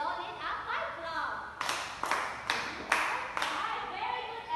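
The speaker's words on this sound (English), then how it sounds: "Give Ronin a 5 clap." Students in a Grade 6 classroom clap in unison for a pupil, five sharp evenly spaced claps following a brief murmur of voices, close and distinct.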